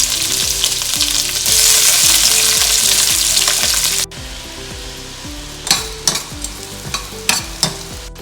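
Onions frying in a pan for a wet masala: loud dense sizzling with steady clanking stirs that drops abruptly to a quieter crackle, stirring strokes continuing throughout.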